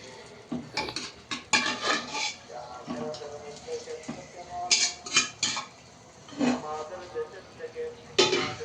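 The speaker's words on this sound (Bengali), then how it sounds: "এখন আমি এই চাল ডাল একসাথে কিছুক্ষণ কষিয়ে নিব" Spoon scraping and knocking in a pot as washed rice and lentils are stirred and sautéed together for khichuri, irregular clinks close up, with some throat clearing and faint voice in between.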